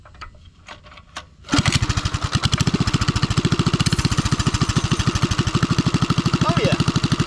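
A restored Sears Bird minibike engine is cranked a few times, catches with a loud pop and settles into a steady, rapid idle close by, thumping rhythmically through to the end.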